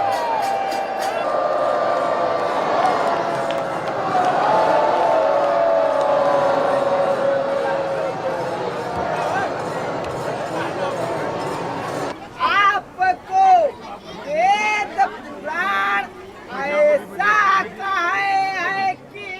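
A huge crowd roars and cheers during a Ramleela enactment in Ramnagar as the king appears on an elephant, with a dense, steady wall of voices that gives way to louder, bursting shouts and cheers near the end.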